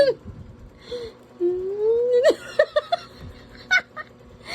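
A Persian cat gives several close meows and whiny cries, one long drawn-out call followed by short chirps and squeaks in an otherwise quiet room.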